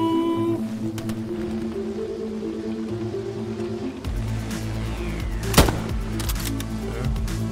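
In Insurgency: Sandstorm gameplay, a bullet strikes a helmet with a sharp, bright metallic plink, one crisp impact cutting through a droning battlefield hum amid scattered gunfire.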